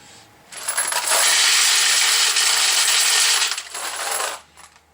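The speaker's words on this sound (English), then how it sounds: "they only recommend you put about 100 or so in the case feeder, so I'll put about half of this in there" Brass cartridge cases pour into a Dillon XL 650 case feeder for .223 Rem reloading, a dense metallic jingling cascade lasting about three seconds, then tapering with a few last clinks.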